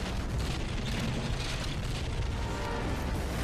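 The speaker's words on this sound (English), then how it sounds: "I love fireworks." A deep rumbling explosion from the finale of the Jak 3 video game, a sustained loud roar with no distinct individual blasts that fills the whole clip, with no voices.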